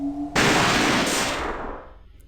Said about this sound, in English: I'm just gonna have to shoot it